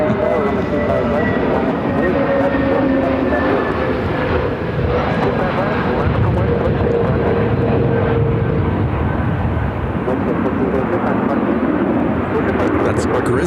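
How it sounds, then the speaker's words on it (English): Frontier Airlines Airbus A320 jet at Phoenix airport, a loud continuous engine roar and rushing drone that holds steady throughout, with faint talk mixed underneath. "That's Griswold, the Bear, on Frontier Flight 4183 from Houston. On an Airbus A320."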